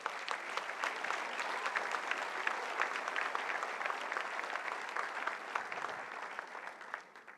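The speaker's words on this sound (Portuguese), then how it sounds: "Aplauda o Senhor." A church congregation applauding during a sermon, a sustained roomful of clapping with crisp individual claps, steady before tapering off at the end.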